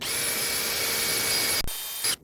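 An engine valve is scrubbed clean by hand with a steady back-and-forth rasping that runs close and continuous, stops abruptly, then returns briefly before ending.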